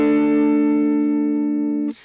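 An electric guitar rings out a single sustained barred chord through effects, a bright, loud tone that decays slowly for about two seconds before being cut off by a short noisy scrape.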